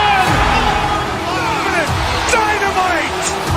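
Crowd noise in a basketball video game, a broad wash of cheering and babble swelling under an excited commentator's voice, fairly loud and continuous throughout.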